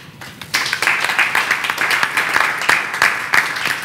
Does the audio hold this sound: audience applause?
yes